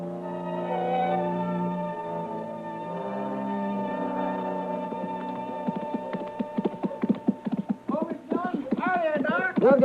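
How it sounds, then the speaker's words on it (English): Horse hooves clip-clopping as Chester rides, a quick rhythmic series of clops rising near the end under a sustained musical drone, with voices talking over it. "It's a good-looking horse Chester's riding"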